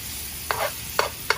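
Garlic hits hot butter in a pan for Tuscan salmon, giving a steady sizzle broken by three sharp bursts of stirring and scraping, close and moderately loud with no talking.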